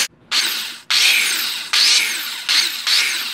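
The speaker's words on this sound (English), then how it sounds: "Let's drill." A power drill whirs in loud bursts, several pulls of drilling into material with short gaps between, close up, while installing an external voltage regulator on a Jeep Cherokee XJ.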